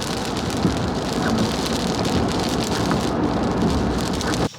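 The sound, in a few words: heavy rain falling outside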